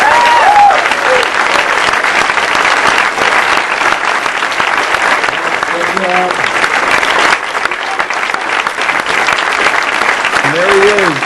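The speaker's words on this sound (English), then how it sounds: "Can we give another round of applause for Mr. Barack Obama?" Sustained, loud crowd applause in a large audience after a speech by President Barack Obama, dense clapping filling the whole stretch with faint voices and cheers mixed in.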